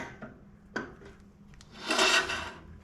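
Dolly wheel bearing scraping against old brick and loose rust, a few brief rasping rubs early, then a louder grinding scrape near the end, with no talk.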